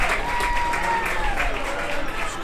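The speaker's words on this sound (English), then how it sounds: "Scrapper crowd finally has something to cheer about" Baseball crowd applauding and cheering in the stands at a Scrappers game in DeQueen as the team takes the lead, a steady, fairly loud wash of clapping and voices with some talk mixed in.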